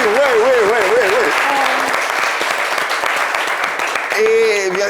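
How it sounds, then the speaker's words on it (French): Debate show audience applauding for a guest named Soukaina, a loud continuous clapping wash with a host's wavering voice over it at the start and end. "On va applaudir un peu, s'il vous plaît, Soukaina"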